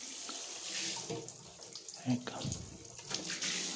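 Water running from a faucet just repaired with Teflon tape, a steady close splashing stream into a sink, with a voice briefly speaking over it.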